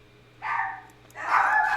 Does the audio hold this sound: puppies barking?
yes